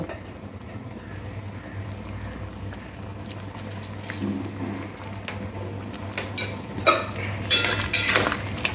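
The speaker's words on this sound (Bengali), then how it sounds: "এবার খুন্তি দিয়ে এরকম আলুগুলো একটু ঘাটা ঘাটা করে দেবো" A spatula mashing potatoes in a vegetarian beetroot curry in a pan, a low steady background with scraping and clinking of metal growing louder and busier toward the end.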